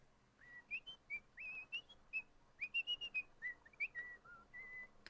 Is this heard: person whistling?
yes